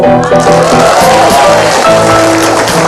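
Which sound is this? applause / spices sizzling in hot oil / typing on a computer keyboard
applause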